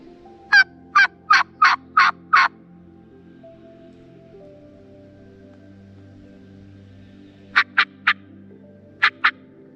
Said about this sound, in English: I think I'm hearing a bird somewhere back in here.